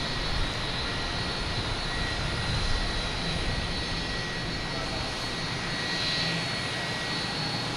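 A JetBlue jet airliner in Super Mario special livery at Boston Logan Airport gives off a steady, broad engine roar from a moderate distance, unbroken for several seconds.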